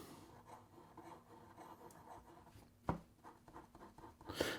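An Ultra Flex nib on an FPR Himalaya v2 fountain pen scratches quickly across paper in a rapid series of faint, close strokes, with one sharper scrape partway through.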